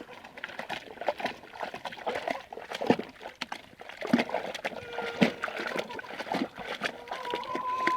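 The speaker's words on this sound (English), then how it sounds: "So I literally get into the bucket and have a good stomp." Water splashes and sloshes in irregular bursts as feet stomp laundry in a bucket of water, with a faint steady hum in the background.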